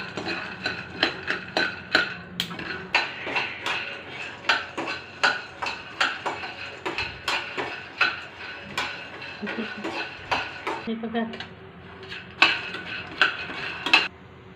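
Dried peanuts being fried and stirred in a metal pan, a spoon scraping and clinking against the pan in a steady repeated rhythm, close and fairly loud with a faint sizzle underneath and no talking.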